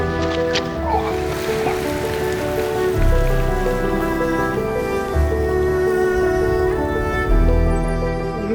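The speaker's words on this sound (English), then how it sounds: "so it was good to be out of the rain for the night" Steady rain patters on a tent under a shelter at a campsite in Central Australia, a constant close hiss with a faint hum running beneath it.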